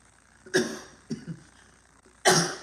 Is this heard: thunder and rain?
no